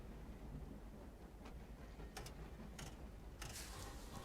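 Steady rumbling train ride in the Wolfenstein: The New Order video game, a continuous faint rolling clatter with occasional brief metallic clanks and squeals, no voices over it.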